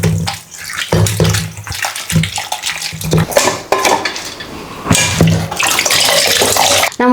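Oyster mushrooms given a light rinse in water, with sloshing, splashing and clinks of a vessel or utensils, close and continuous with a few short pauses.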